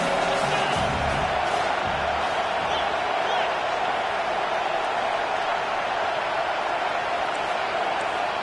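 Stadium crowd roaring in a video game American football match during a third-and-short play, a steady, dense wall of noise that stays loud and unbroken throughout.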